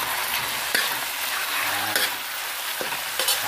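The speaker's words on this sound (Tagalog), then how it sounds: "Hahaluin na natin yan mga repa." Chicken pieces fry in a pan with a steady bright sizzle, while a utensil stirs and scrapes at intervals, producing several distinct knocks close by with no talk.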